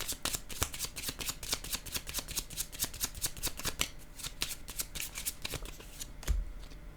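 Tarot cards are shuffled in a continuous fast riffling patter of crisp flicks, close and steady, ending with a soft thump.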